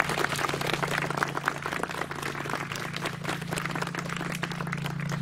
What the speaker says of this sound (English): If we can give all the veterans a round of applause.